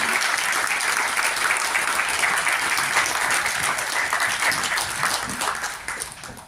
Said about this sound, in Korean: 우리 박수 힘찬 박수 한 번 맞이하시겠습니다